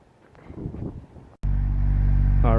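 A lifted off-road Honda CR-V fitted with new tires and a 2-inch lift starts up and settles into a loud, steady idle after a muffled shuffle.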